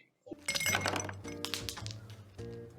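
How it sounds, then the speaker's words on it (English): Ice cubes clink and rattle into a tall glass in a quick burst of bright knocks, followed by ringing glassy tones that fade and return. "Fill a tall glass with ice"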